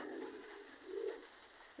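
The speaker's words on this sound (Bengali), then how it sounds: "দেখেন একটু কবুতরগুলা" Pakistani highflyer pigeons in a loft give soft, low cooing calls: a faint coo at the start and a slightly fuller one near the middle, heard alone against a quiet room.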